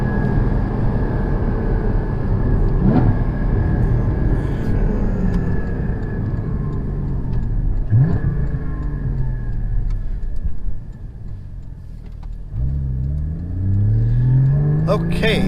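A 2016 Porsche GT4 engine pulls hard through the gears from inside the car, loud sustained revving with rising pitch sweeps at each shift, a brief lull before the next gear winds up again.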